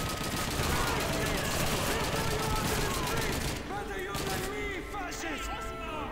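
Gunfire in the Call of Duty 2 Russian campaign, a loud, dense stream of rapid shots and bursts that eases slightly partway through, with a voice audible beneath the battle noise.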